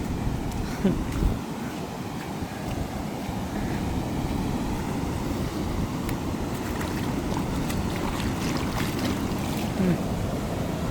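Floodwater rushes through a breach at the Iranaimadu reservoir in a steady, broad roar that continues without a break, mixed with some wind noise.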